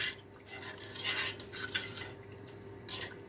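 Coconut milk soup with aromatics being stirred off the heat in a pot, a utensil scraping and clinking softly against the sides in an irregular rhythm, close and fairly quiet.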